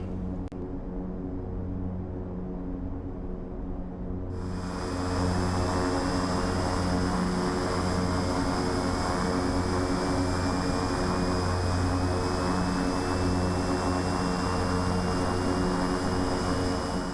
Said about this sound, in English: So engine ignition arm and engine start on the right side.